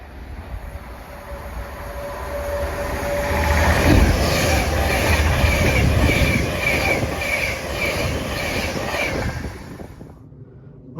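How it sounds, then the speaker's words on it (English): An Avanti West Coast passenger train, a class 390 diverted on the London Euston to Manchester Piccadilly run, rolls through a Manchester station, its rumble swelling to a peak midway with rhythmic wheel clatter and a faint squeal before fading. "here comes the Avanti West Coast Cross, running from London Euston to Manchester Piccadilly"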